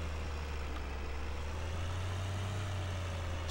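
A tractor engine in Farming Simulator 2013 holds a steady, low, droning rumble throughout, near and constant with no talking.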